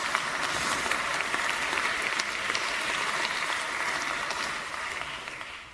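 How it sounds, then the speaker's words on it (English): A conference audience applauds, a dense, even wash of many hands clapping at once. It keeps up strongly, then tapers off toward the end with no speech over it. "Now is the time to applaud."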